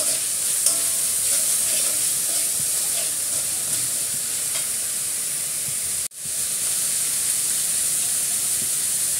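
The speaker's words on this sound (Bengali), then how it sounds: "একটু নেড়ে চেড়ে হালকা একটু কষিয়ে নিচ্ছি।" Ginger-garlic paste sautés in a pan with a continuous close hiss and sizzle, stirred now and then with soft scrapes, then a brief dropout about two-thirds through before the frying noise resumes.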